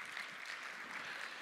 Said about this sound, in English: A big round of applause for our panel